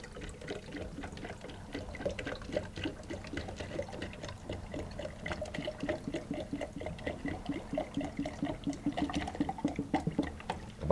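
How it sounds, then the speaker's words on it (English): Plain water poured into a plastic soda bottle, a continuous gurgling trickle that grows slightly louder and more bubbly as it fills, heard alone at moderate level. "I'm going to pour some water in this plastic soda bottle"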